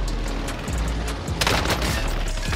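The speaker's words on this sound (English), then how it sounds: "Precision airstrike." A precision airstrike in Call of Duty Warzone, with a rapid, loud fusillade of explosive booms and cracks that builds into a dense burst halfway through, heard close and alone.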